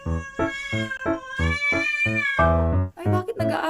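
Two cats, Boy Tapang and Tanggol, fight with loud, close caterwauling, drawn-out yowls and rising meows in a tense series of wails, ending in sharper screeching cries.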